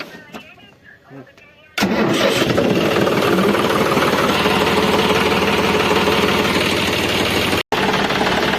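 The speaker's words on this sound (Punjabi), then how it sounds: "ਕਰੀਏ ਟਰੈਕਟਰ ਸਟਾਰਟ ਲਈਏ ਰੱਬ ਦਾ ਨਾਮ" A tractor engine cranks and fires at a village farm, then settles into a loud, steady running rumble that continues with a brief cut near the end, after quiet talk and knocks beforehand.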